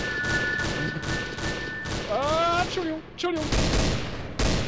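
Gunfire in the multiplayer shooter Trouble in Terrorist Town bursts out in rapid volleys, mixed with game effects and a brief spoken word from a player.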